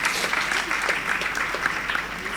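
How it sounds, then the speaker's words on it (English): Steady, full applause from an audience at a regional college quiz competition, a continuous wash of clapping throughout the short stretch with no break. "So round of applause for all 6 teams."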